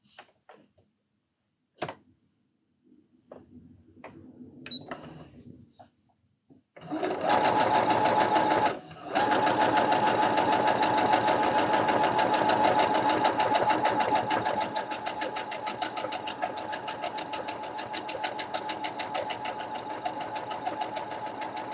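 Sewing machine stitching a hoodie, a fast, steady mechanical whirring rattle that runs loud and continuous for most of the stretch after some quiet handling noises and a brief pause.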